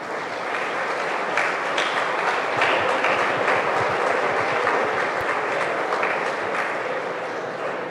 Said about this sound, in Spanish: Un fuerte aplauso y muchísimas felicidades.